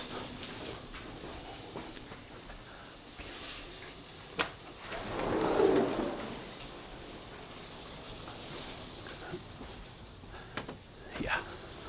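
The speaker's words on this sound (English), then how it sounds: "I am going to open up a door, the sliding door in my apartment though." A sliding door in an apartment is pulled open, giving one soft rumbling slide mid-clip among faint scattered clicks and taps in a quiet room.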